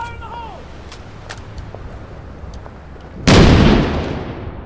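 C4 charge detonating in the Six Days in Fallujah military shooter game, one sudden loud blast that rumbles and slowly fades after a quiet stretch with faint distant sounds.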